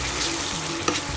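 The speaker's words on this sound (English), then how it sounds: "add the blended masala, the onions and tomato and ginger and garlic, and saute it for about 3 to 4 minutes" Blended masala with onion, tomato, ginger and garlic sautéing for methi matar malai, a continuous close sizzle with a sharp stirring scrape near the end, no voices.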